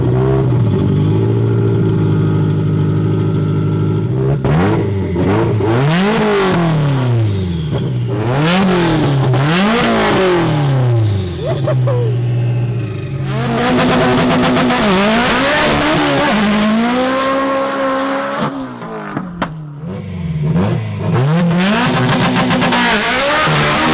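A 1050-horsepower Subaru WRX engine is revved hard, again and again. Each sharp blip climbs and falls back to a rough, burbling idle, loud and close, with no voices.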